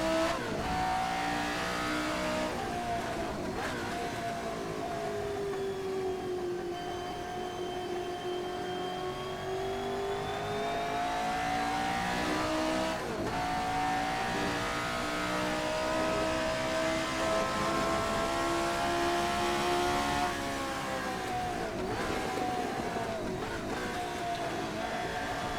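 A Formula 79 racing engine howls at high revs around 8,000 RPM, its pitch rising and falling in repeated sweeps, loud and close throughout.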